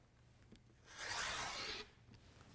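A cutting tool drawn along a ruler through quilting fabric strips gives a single soft, brief rasping stroke lasting under a second, faint and close against a quiet room.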